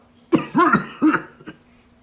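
A man coughs and clears his throat in three or four rough, close bursts, the last one short and fainter, with no talking.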